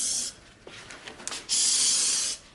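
Disinfectant spray hisses onto a jacket in two bursts, a short one at the start and a longer steady one a second later, close and loud with no talk.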